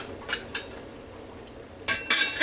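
A kitchen scraper drags across a cutting board, gathering chopped onions in a couple of short light scrapes and then a louder, longer scraping sweep near the end, close by.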